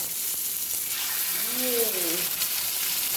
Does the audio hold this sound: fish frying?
yes